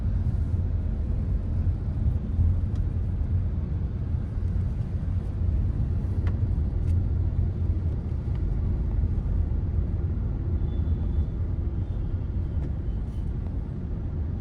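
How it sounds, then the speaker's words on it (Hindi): Steady traffic rumble of cars and other vehicles coming and going on a busy highway in India near Omkareshwar, a continuous low broadband roar with occasional passing swells and no talk. "देखिए गाड़ियां भी कितनी आ जा रही हैं।"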